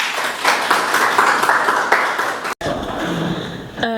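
Students at a university journalism event clap their hands together as a crowd, busy, close applause that cuts off abruptly, then gives way to quieter room sound and a short tone.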